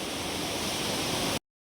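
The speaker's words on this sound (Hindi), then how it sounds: "यहाँ से तो पानी जा रहा है यहाँ से" Water rushing over rocks in a shallow stream beside a farm field, a steady close wash of noise that holds evenly and then cuts off abruptly near the end.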